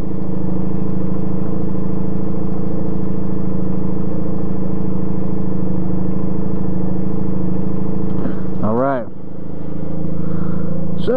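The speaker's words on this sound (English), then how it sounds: "we have only made one addition to the bike so far, and that being aftermarket pipes made by Jardine" A Honda Rebel motorcycle with Jardine aftermarket exhaust pipes holds a steady, loud, low droning rumble, then briefly revs up and settles back near the end.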